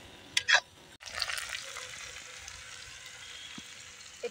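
Onion fries in a pan for an Assamese chicken curry: two quick clinks come first, then a sudden steady sizzle starts and keeps going at a moderate, close level.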